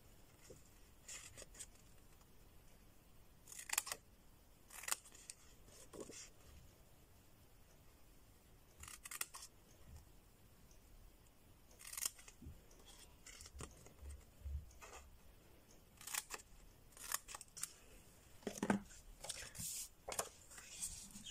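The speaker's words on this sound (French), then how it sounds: "Je vais venir couper pour l'assemblage de mon couvercle." Scissors cutting paper to assemble the lid of a small handmade birthday calendar, a scattering of quiet, close snips and crisp paper rustles separated by pauses.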